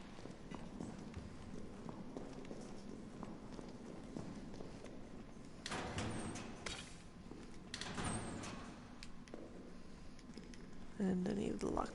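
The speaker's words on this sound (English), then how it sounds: "Did I just hear a door close?" A door closes with a dull thud amid the background noises of the Resident Evil 3 video game, which include shuffling zombies, while a player talks over the game sounds.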